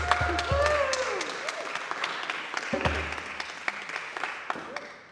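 An audience applauding steadily, a dense wash of clapping with a few sharp individual claps standing out, while voices and cheering rise over it early on.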